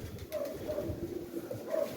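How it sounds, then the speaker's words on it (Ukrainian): Pigeons cooing close by, a low soft throaty murmur repeating over steady rushing wind. "Ось один голуб, решта там, там десь боряться, боряться"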